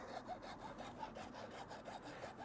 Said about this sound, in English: So I'm just going to very gently cut through with a hacksaw, being careful not to cut through the hose on the inside.